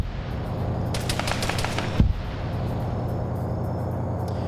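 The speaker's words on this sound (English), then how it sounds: "Got some mortars coming in." Mortar rounds landing in a military combat video game, heard as a rapid cluster of sharp thumps followed by one heavier impact, set against a constant low rumble of battlefield ambience.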